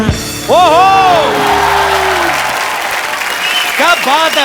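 Studio audience applause on the set of The Kapil Sharma Show: loud, dense clapping erupts and holds steady, with cheering, whoops and voices rising over it.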